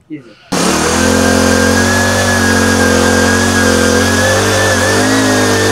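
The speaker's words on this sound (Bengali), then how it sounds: "আপনি তো এই মেশিন চালাচ্ছেন, তাই না?" Earth auger machine digging holes in soil: a steady, loud mid-pitched engine drone that starts abruptly and runs continuously with a faint rising whine, close to the listener.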